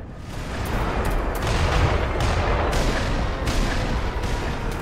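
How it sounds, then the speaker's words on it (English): Mortar fire in the video game Black Mesa: a dense, continuous rumble of booming blasts and crackling impacts, loud and close, with no talk over it. "If they're mortaring, using mortar fire on me."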